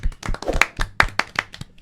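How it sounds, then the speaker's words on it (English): A few people in a podcast studio clap for a guest, giving sparse, close, sharp hand claps in a short irregular burst. "let's clap it up for our special guest, Dorian"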